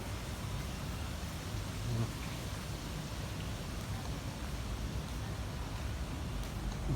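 Steady hiss of rain falling throughout, a dense, even wash of noise with no voices.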